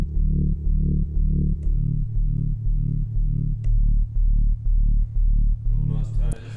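Repeated FM synth notes from Ableton Live, with one oscillator pitched four octaves up, pulse in a steady pattern of deep buzzy tones, and a voice speaks briefly near the end.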